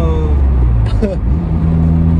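A 1989 third-generation Honda Prelude drives along with a loud, steady interior engine drone and low rumble, holding an even pitch throughout, with a brief voice breaking in near the middle.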